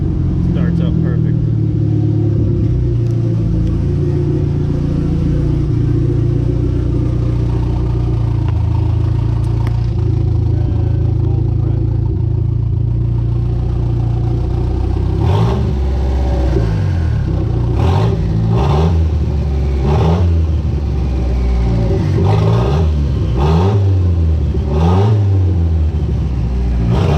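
A 30-year-old Mitsubishi Starion/Conquest sports car engine idles steadily, then revs in several sharp bursts that rise and fall over the running rumble, close by and loud.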